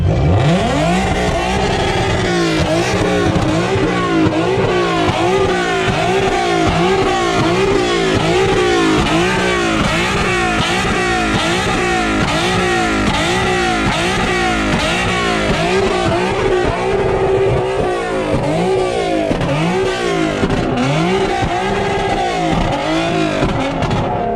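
Loud car engine revving repeatedly in rapid two-step launch-control bursts, with crackling pops between the surges, sustained throughout at close range at a car event.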